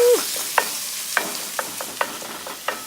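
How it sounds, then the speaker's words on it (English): Beef taco meat sizzles in a pan over a campfire at a Virginia national forest campsite, with a steady hiss broken by about a dozen sharp stirring scrapes and clicks, close by and with no talk. "I need to guess what that sizzle is"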